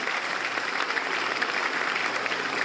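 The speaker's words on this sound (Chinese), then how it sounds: "帮我们高雄市选手鼓掌一下好不好？" Audience applause for Kaohsiung City athletes at a flag-raising ceremony: dense, steady clapping from a crowd, even and sustained throughout with no voices over it.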